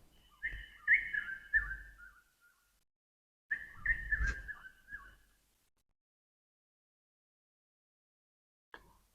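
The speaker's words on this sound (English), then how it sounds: "soon beautiful bird song fills every tree across the" Bird song in a jungle: two clear, whistled phrases of sliding, warbling notes, each lasting over a second, separated by a pause, fairly close, with a brief faint chirp near the end and no talking.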